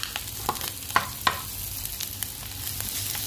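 Garlic sizzles in a hot pan while cooking mongo with kangkong, a steady soft frying hiss broken by a few sharp spatula clinks and scrapes against the pan, fairly quiet and close.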